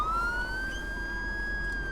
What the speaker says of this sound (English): Let's turn off the sirens